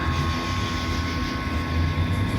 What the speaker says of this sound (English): it whirring up, which is probably the power going from the battery up into back here